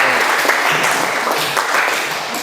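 Classroom audience applause, dense and steady clapping from a group that fills the room evenly for a couple of seconds.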